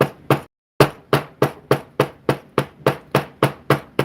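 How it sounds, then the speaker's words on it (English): Light hammer strikes on overlapping crossed wires in a craft project, a steady run of about a dozen sharp metallic taps after a short pause, close and loud with no talking. "So I'm just hammering much more lightly"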